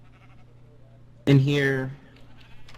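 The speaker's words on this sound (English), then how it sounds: "I only have sheep right now" In a video game, a single sheep gives a loud, wavering bleat lasting under a second, heard close over a quiet background, with a person talking just before it.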